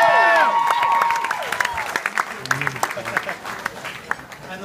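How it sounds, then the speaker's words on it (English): At a wedding, guests applaud Rebecca during the best man's speech: a voice fades out at the start, then clapping continues, moderately loud and gradually thinning. "Can we get a round of applause for her"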